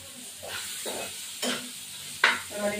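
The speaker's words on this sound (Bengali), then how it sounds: "লবণ, হলুদ গুঁড়ো দিয়ে এবার এটা নাড়া দেবো" Fish curry with salt and turmeric powder gets stirred in a pan, giving soft scraping strokes over a faint sizzle, with a few louder scrapes near the end.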